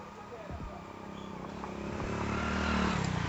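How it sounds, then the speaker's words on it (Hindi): Many motorbikes stream past on a mountain trekking route, a continuous droning engine rumble that slowly builds louder, with voices talking over the traffic. "बहुत सारे बाइक्स हैं, 1-2 बाइक्स नहीं है, सैलाब आ रहा है बाइक का"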